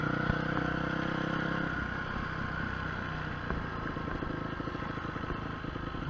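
A motorcycle ridden at an easy pace gives a steady, close engine drone with rattling mechanical clatter, continuous and without talk.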